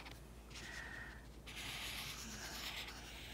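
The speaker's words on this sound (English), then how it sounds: "so you can just draw another shape that looks like that" Pencil or marker drawing on paper, a soft continuous scratchy rubbing in two long strokes separated by a brief pause, close and quiet, no talking.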